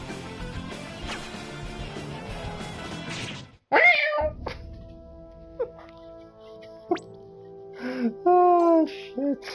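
Meowing voice of a character imitating a cat in the game Star Ocean: The Last Hope, a few short pitched calls after a sudden crash, set over game music and effects; a human voice imitates the cat.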